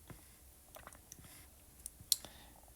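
Graphing calculator buttons pressed in a quick sequence, a handful of small sharp plastic clicks at uneven intervals, close and quiet.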